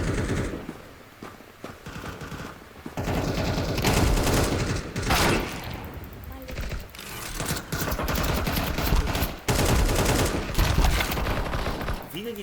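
Automatic gunfire in a video game rattles in loud, sustained bursts broken by brief pauses, with heavy volleys dominating throughout and voices occasionally talking underneath.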